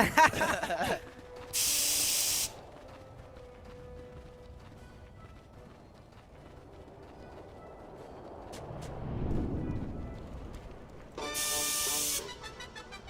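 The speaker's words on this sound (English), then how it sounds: "As the sprays go out already in the mid lane" Graffiti sprays in the Dota 2 mid lane give two short, loud hissing bursts several seconds apart, with quieter game sounds in between.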